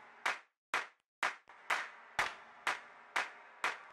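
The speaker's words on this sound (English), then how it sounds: "here's a sample of 14 individual human claps" Layered sampled human hand claps with glue compression and reverb, eight sharp claps in a steady rhythm, each with a short reverberant tail, alone and fairly quiet.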